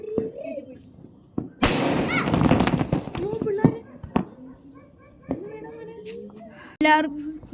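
A Diwali firecracker bursts with a loud crackling blast lasting about two seconds, followed by scattered sharp pops and pitched voices of people talking nearby.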